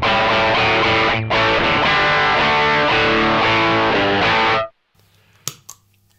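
An electric guitar plays a thick, distorted rock riff through a Mosky Classic AC-30 style overdrive pedal, loud and sustained with one brief break, then cuts off to near silence with a couple of soft handling clicks.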